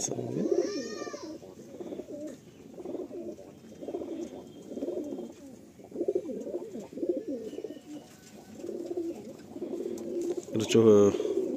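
Madrasi pigeons in a loft give soft, repeated low coos that run steadily through the stretch, with a brighter flutter or call near the end and people talking nearby.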